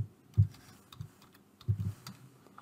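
Keys on a computer keyboard tapped to type a workspace name, a few soft, scattered keystrokes in short clusters, quiet and close, with no voices.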